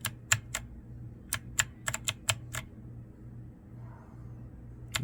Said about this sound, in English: You just hit Alt and FN.